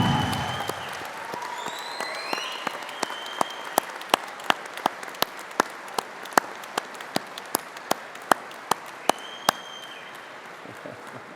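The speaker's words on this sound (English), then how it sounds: "join me in a round of applause to say thank you to those who have helped you to reach this important" A graduation ceremony audience applauding in a hall: dense, steady clapping fills the space, with sharp individual claps standing out and gradually thinning toward the end.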